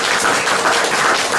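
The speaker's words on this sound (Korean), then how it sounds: "우리 김정민 박사님한테 우리와 같은 박수 한번 부탁드리겠습니다" Audience applause at a Korean lecture hall special talk, a dense, loud wash of many hands clapping continuously through the short moment.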